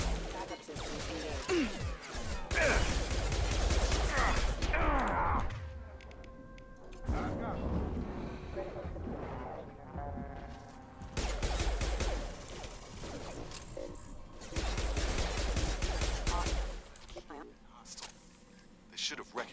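Gunfire in the sci-fi shooter game Mass Effect 2: rapid bursts of shots and crashing impacts in several loud clusters, separated by quieter stretches with voices talking.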